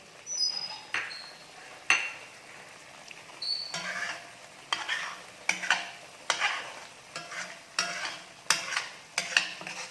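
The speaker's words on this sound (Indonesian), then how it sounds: "Kita matangkan dulu bumbunya sampai harum, tercium, sampai menyusut." A spoon stirs and scrapes a sizzling blended spice paste for Indonesian gulai in a pan, giving repeated rhythmic scraping strokes over a soft continuous fry, fairly close and with no talking.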